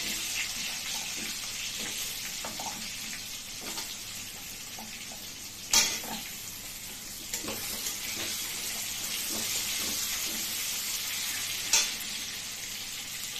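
Potatoes sizzling in a frying pan with black cumin and tomato, a steady close hiss of hot oil with a few sharp clinks of a utensil against the pan.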